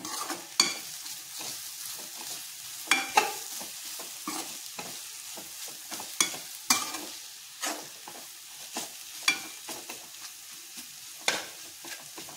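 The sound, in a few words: thecha chili paste being sautéed in oil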